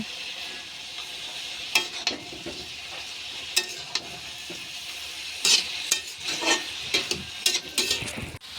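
Cabbage ghonto frying in a pan, a steady soft sizzle with repeated scraping stirs of a utensil against the pan, close and without talk.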